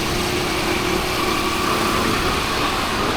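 Auto rickshaw engine running steadily and close, a continuous buzzing drone with a faint whine throughout, no voices.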